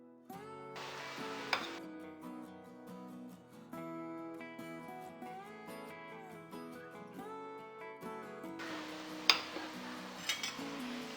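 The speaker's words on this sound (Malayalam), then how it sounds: "ഇനി പൊടി കുറേശ്ശെയായിട്ട് മാംഗോ പൾപ്പിലേക്ക് ചേർത്ത് മിക്സ് ചെയ്യണം." Flour being mixed spoonful by spoonful into mango pulp in a bowl for a steamed mango cake, heard as two short bursts of scraping and stirring over steady background music.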